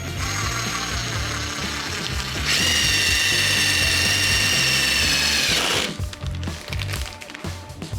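A power drill whines steadily while driving a self-tapping screw into a bus ceiling during a camper conversion. A sharper, higher whir rises partway through and then cuts off, leaving faint rattling and handling noise.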